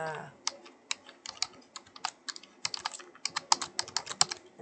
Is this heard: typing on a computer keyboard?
yes